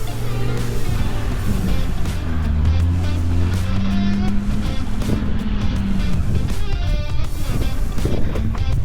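An off-road vehicle with half its exhaust missing drives on rough lanes through a stream and up a hill, its engine a loud, uneven low rumble that persists throughout, roughened by wind buffeting the microphone.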